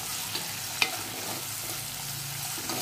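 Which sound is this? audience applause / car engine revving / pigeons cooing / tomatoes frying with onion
tomatoes frying with onion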